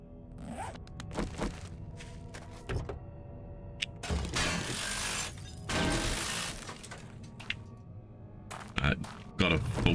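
A wrench scrapping vehicles in the video game 7 Days to Die, with repeated clanking, scraping and shattering bursts, some long and some short, against a quiet background.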